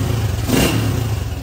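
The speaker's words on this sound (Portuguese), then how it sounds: "A hora que eu dou uma aceleradinha, o giro já vem aqui em cima" A Honda Titan 150 motorcycle engine gets a short, sharp blip of the throttle up to high revs, loud and close, a gritty mechanical drone lasting about a second and a half with no speech.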